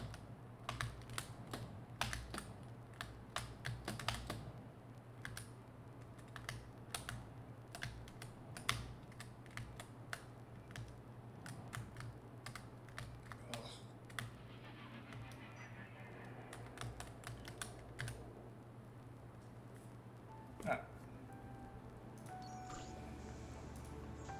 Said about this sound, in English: I feel like my keyboard is very clicky.